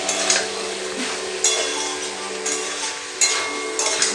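Soybean masala is stirred in a pan, with repeated scraping and clinking strokes of a spoon against the metal roughly every second over a soft background sizzle.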